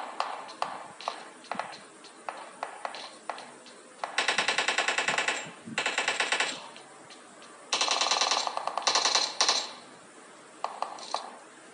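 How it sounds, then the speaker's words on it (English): Gunfire bursts from shooting a zombie in a mobile shooter game, likely PUBG or Fortnite on a phone: rapid automatic volleys alternate with sparse single shots and clicks, loud and close, with no talking. "Shooting a zombie."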